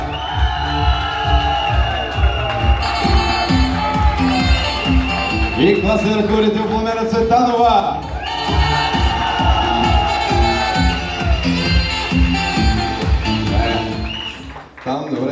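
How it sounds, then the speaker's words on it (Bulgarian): School event crowd cheering and clapping for the director, loud and continuous, with whoops mixed in and an announcer's voice ringing over the noise. "И аплодисменти за директор Евдокия Антонова!"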